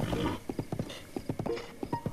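Horse hooves clip-clop in an uneven trot in Breath of the Wild, a wild-tempered royal white stallion, with a few whinnying tones mixed in, moderately close and with no talk over them.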